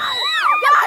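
A crowd cheers from the sidelines of a ball game, with a brief burst of high, overlapping shouts and whoops.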